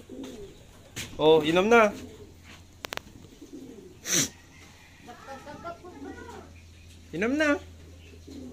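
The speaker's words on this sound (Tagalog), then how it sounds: "Ayan mga kalapatids. Andyan na sila oh." Pigeons coo several times in a rural setting, with rounded throaty calls spread through the clip while a person talks close by between them.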